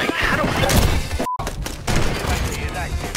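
Busy game gunfire from a Kar98k sniper rifle during a Search and Destroy match, with a burst of shots and crashing impacts over constant loud noise, a sharp cut midway, and players talking and shouting over it.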